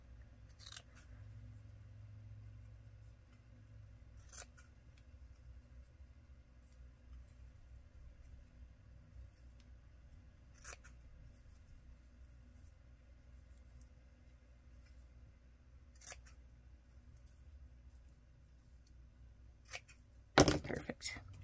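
Notebook pieces cut to about 3.5 inches with scissors in a quiet room, a few sparse, brief snips spaced seconds apart, ending with a louder sharp clack.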